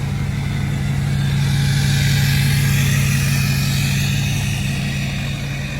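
A Ford 6.0 Powerstroke diesel truck engine idles just after a FASS fuel pump install, a loud steady low rumble with a constant hum, heard up close and unchanging throughout, with no voices.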